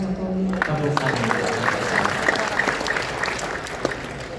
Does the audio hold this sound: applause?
yes